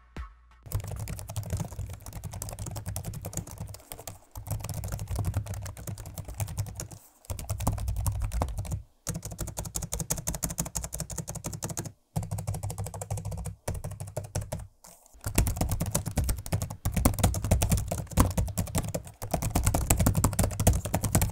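Steady clatter of keys being typed on a Lionine L9T27S gaming laptop, quick irregular taps in bursts with a few brief pauses, close up and fairly loud.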